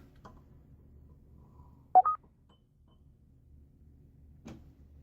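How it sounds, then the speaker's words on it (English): A quiet room with a short electronic beep in the middle and a few faint clicks before and after. "My phone beeped."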